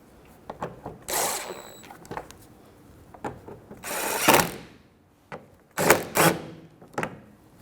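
Ratchet on a 10mm socket snugging bolts on a Nissan Frontier during AC condenser work, heard as a few separate bursts of ratcheting clicks with light taps and handling noise between them.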